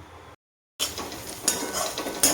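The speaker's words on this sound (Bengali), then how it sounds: "এবার ভালো করে ভাজা ভাজা করে নাড়ি, সমানে নাড়তে হবে" Onion posto with cashews being stirred and fried in a pan, a scraping, clinking stir over a soft sizzle, broken by a brief silence before steady stirring resumes with a couple of sharper clinks.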